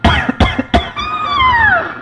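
Three sharp coughs in quick succession close to the listener, followed by a longer drawn-out vocal sound that slides downward in pitch.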